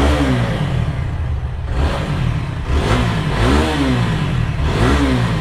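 A used second-hand motorcycle engine revs loudly up and down in repeated swells, close by and alone without talk.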